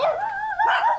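Small Pomeranian dogs in Bali giving a continuous high yappy bark-whine, close and loud, filling the short moment alone.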